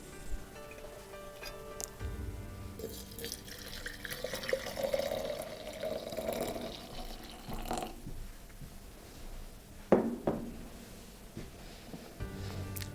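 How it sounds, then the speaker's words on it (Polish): Hot water streams from a kettle onto loose black Ceylon tea leaves in a cup. The pour is steady and close, lasts several seconds and trails off into a few faint drips. "I zalewamy gorącą wodą."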